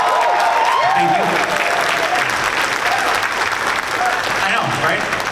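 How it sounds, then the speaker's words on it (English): Loud applause from a comic con panel audience, a dense sustained clatter of clapping filling the hall with scattered cheers throughout. "I appreciate the applause"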